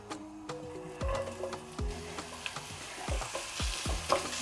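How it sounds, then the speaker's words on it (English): Onions frying in oil crackle softly while a utensil stirs and scrapes the pan, with several sharp clanks against the metal. "start frying the onions when it's hot"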